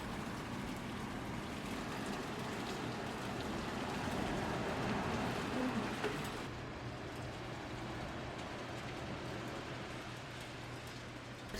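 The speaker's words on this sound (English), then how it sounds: "It's raining harder now" Steady rain falls in Gangneung, Gangwon Province, South Korea, a dense even hiss that stays constant throughout, slightly heavier early on, with no talk.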